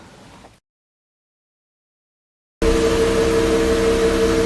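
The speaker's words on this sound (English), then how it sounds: "They've got some big truck outside doing something over there" Heavy truck working outside a Cambridge home, a loud, steady engine drone with a sustained hum that starts abruptly after a stretch of silence and runs on without pause.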